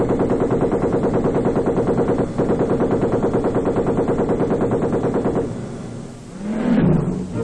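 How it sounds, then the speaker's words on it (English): Twin-mounted machine guns of the 1st Australian Task Force in Vietnam fire a sustained rapid barrage for several seconds, then stop abruptly, followed by a duller rumbling blast. "Twin-mounted machine guns provide a devastating barrage."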